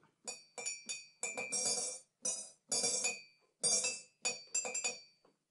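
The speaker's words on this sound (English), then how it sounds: "B is a mug with a spoon in it." A spoon clinks against a ceramic mug in a quick series of bright, ringing taps, about a dozen strikes in short bursts with brief gaps between them, close and clear.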